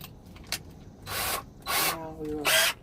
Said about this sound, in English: Now we will drill our little screws in.